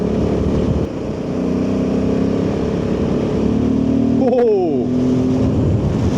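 Royal Enfield Himalayan 450 modified as a rally bike, engine droning steadily and loud throughout with a brief rising whine near the end, and a voice speaking briefly over it.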